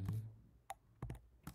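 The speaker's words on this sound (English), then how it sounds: "You need to learn the typing also." Keys tap on a computer keyboard in a quiet room, a handful of soft, separate clicks with short gaps between them.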